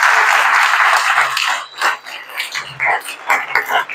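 A church congregation breaks into applause, loud and dense at first, then thinning into uneven bursts of clapping, with a few voices calling out over it.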